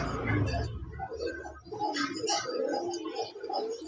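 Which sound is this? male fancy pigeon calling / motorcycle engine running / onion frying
male fancy pigeon calling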